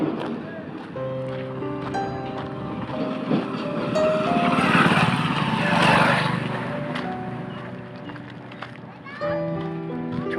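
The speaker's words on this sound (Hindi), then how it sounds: "आप देख सकते हैं पीछे यह है ट्रैक्टर जा रही है।" A tractor passing along a village lane, its engine drone rising to a peak and fading, heard beneath someone talking over it.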